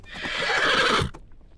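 One loud, close horse neigh rings out for about a second, then cuts off into near quiet.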